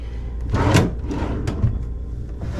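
Hotel room drawers slide open and shut in a Los Angeles harbor hotel, with a few close wooden scrapes and thumps one after another, with no talking.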